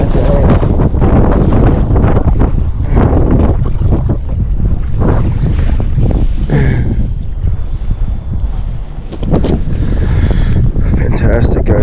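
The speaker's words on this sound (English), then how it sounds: "Like I said, it's really windy here." Heavy wind roars across a dam while someone fishes, battering the microphone almost without pause, with a person talking over the rumble.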